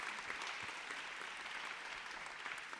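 Audience applause for speakers at the FAB24 symposium on innovative industries, a steady, dense wash of clapping filling the whole stretch at moderate, fairly distant level.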